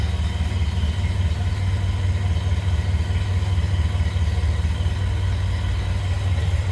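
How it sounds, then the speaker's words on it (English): A 1928 Ford Model A pickup engine idles steadily with a low, even rumble, the throbbing pulse holding constant and close throughout. "Nice running Model A right here."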